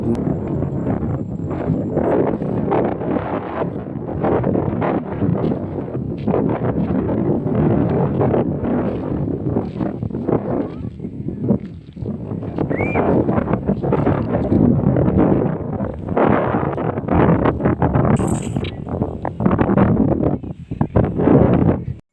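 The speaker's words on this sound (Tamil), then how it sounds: "காற்று பயங்கரமாக வீசுது உங்களுக்கு சத்தம் கூட நல்லா கேட்கும்" Strong wind buffets the microphone at Ponmudi hill station in Kerala, a loud continuous roaring gust noise that fills the whole clip with only brief lulls, with no voices over it.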